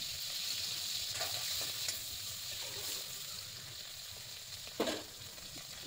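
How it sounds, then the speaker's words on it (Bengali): Washed dried fish (shutki) frying in a hot wok, giving a steady close sizzle throughout with a few brief clinks and stirring scrapes over it, no one talking. "আজকে শুটকি মাছটাকে ভাজা করে নিয়ে"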